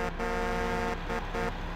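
A steady truck horn sounds in Farming Simulator 15 at a woodcutting work site, held as a continuous tonal blast with brief dips, fairly quiet.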